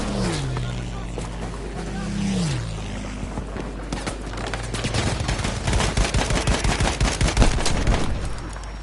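Rapid bursts of hip-fired gunfire in the shooter game Battlefield 5, loud, dense crackling shots building in the second half over engine rumble and a rising vehicle whine.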